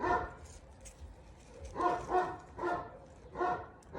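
A dog barks in separate bursts, with four or five clear barks spaced about half a second apart. The barks sound moderately close, and quieter rustling sounds from the room fill the gaps between them.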